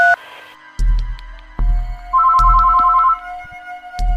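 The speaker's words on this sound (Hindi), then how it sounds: "वो जल्दीबाजी में अपने मोबाइल से एक नंबर डायल करता है।" A mobile phone rings loudly and close after a number is dialed, with an electronic ringtone of repeating tones over low thumping beats and a brief rising tone at the start.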